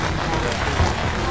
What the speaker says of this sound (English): It sounds like the rain is picking up.